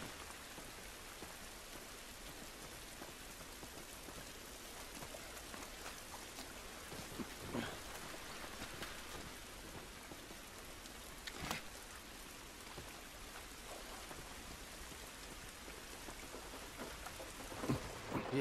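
Steady rain hisses across the scene in The Last of Us, with a few distant thunder rumbles rising briefly out of the downpour; the whole storm stays fairly faint and continuous, with no talking.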